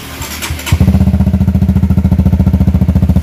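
A Honda Supra GTR 150 motorcycle with a 77 Racing Muffler exhaust fires up and settles into a loud, rapid, throbbing exhaust idle, with even pulses close to the listener.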